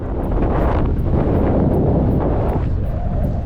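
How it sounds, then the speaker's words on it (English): Strong wind gusting up to 50 miles an hour roars and buffets the microphone continuously, a loud, rumbling rush with no voices. "to 50-mile-an-hour gusts of wind"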